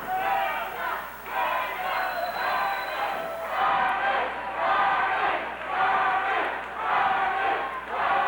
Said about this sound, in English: the crowd chanting Marty, Marty, and on the other side there, Jacob, Jacob